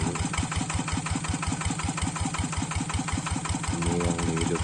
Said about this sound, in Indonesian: Ini yang dihidupkan baru satu mesin.